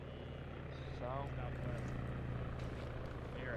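An ARMA 3 helicopter drones steadily overhead, a constant low rotor thrum lying beneath radio-style chatter between players.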